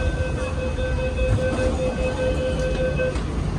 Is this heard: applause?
no